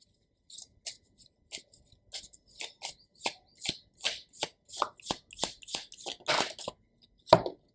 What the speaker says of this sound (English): Let me pull out a few cards.